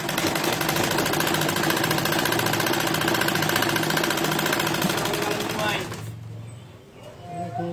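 Sewing machine running steadily while stitching both ends of folded salwar fabric, a continuous close mechanical whir that stops near the end, with a voice speaking over it.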